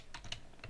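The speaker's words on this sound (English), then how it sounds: "So all you do is you type GMT" Typing on a computer keyboard, entering a short search query: a few quick, soft key clicks in a brief burst, close and fairly faint, with no voice.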